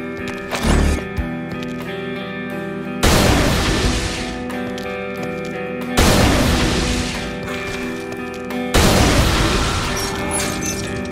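The light shot from Shadows of the Damned fired at a lamp hanging on a wall: three loud, booming blasts about three seconds apart, each fading with a long ringing tail over steady tonal game music.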